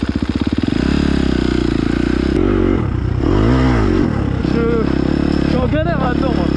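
Motocross motorcycle engine roaring loud and close, with a steady heavy drone and pitch swells as it revs, while a voice talks over it.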